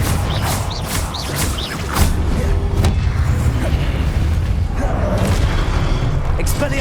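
A Confringo fire spell explodes in Hogwarts Legacy with a heavy boom about two seconds in, followed by a sustained loud roar and rumble with mechanical creaks that lasts to the end.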